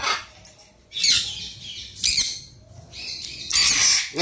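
Pet parrots at play indoors, giving four sharp, harsh squawks in short bursts about a second apart, close and fairly loud with quiet gaps between.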